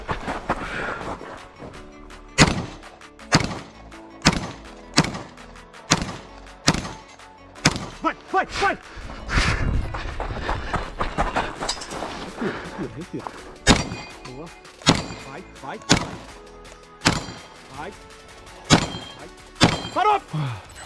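Gunshots ring out in a shooting competition, a series of sharp, loud cracks spaced roughly one to two seconds apart and near, with a brief irregular stretch midway and some talking between shots.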